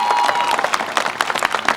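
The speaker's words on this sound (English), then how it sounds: "students who have had any of them, again, you can stand and applaud" Students at a 2018 commencement ceremony standing and applauding, a crowd of scattered claps with a murmur of voices, brief and fairly loud.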